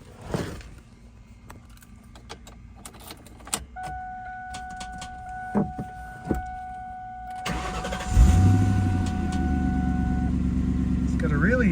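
A 2000 Ford Mustang GT V8 cranks and fires up after some clicks, key jangles and a warning chime, settling into a loud, steady, deep idle close by.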